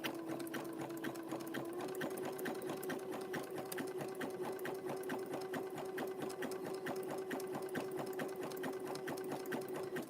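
A sewing machine stitches rope continuously at a steady pace, its rapid needle forming an even mechanical chatter with a constant hum underneath.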